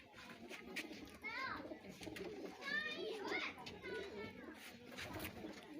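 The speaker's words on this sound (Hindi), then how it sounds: "ज़बरदस्त चंगा कबूतर माशाल्लाह" Pigeons coo and call in a village, their soft warbling phrases recurring close by over steady background chatter, with people talking throughout.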